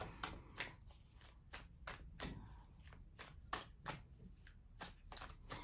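Tarot cards being shuffled by hand, a run of crisp, rapid riffles and flicks in irregular bursts, close and fairly quiet with no talking.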